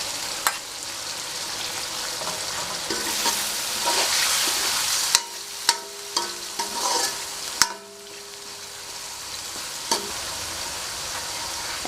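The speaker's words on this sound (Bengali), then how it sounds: "এটা আমি কিছুক্ষণ ভেজে নেব। সাথে দিয়ে দিচ্ছি মাংস কুচিগুলো" Minced meat fries in a pan with a loud, continuous sizzle while a utensil stirs and scrapes it, adding sharp clanks and bumps. The sizzle dips for a moment before resuming.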